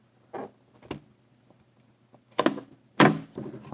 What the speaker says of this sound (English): I'm going to use my weather strip installation tool and the chisel end to come underneath it and work it up and pry